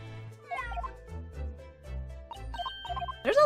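Cat meows in the video game Dai Gyakuten Saiban 2, several short meows repeating over a backing music track with low bass notes, ending in a louder bright cry.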